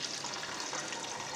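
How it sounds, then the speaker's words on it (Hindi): About a litre of water pours steadily into a cooking pot, a continuous rushing, bright even splash with no pauses, close by. "मैं डाल लूँगी तकरीबन 1 किलो के करीब पानी"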